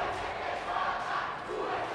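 Crowd of fans roaring and cheering continuously at a GP Extreme Muay Thai fight between Igor and Lucas, a dense, steady wash of voices filling the arena throughout.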